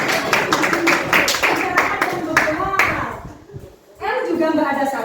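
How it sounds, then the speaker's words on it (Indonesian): Seventh-grade students in a classroom clap in a quick burst of sharp, rhythmic claps that fades out, followed by voices talking. "Tepuk tangan dong buat dia."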